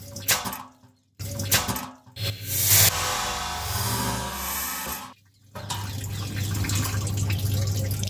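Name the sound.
fuel draining from a Peugeot gas tank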